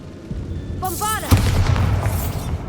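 A Bombarda blasting spell in Hogwarts Legacy goes off with a single sharp, loud blast, preceded by a brief whooshing magical cast and followed by a short crackling tail.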